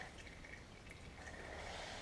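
Transmission fluid drains from a DSG gearbox on an Audi A3 TDI into a bucket underneath, a faint steady trickle and drip running continuously for a couple of seconds against low background noise.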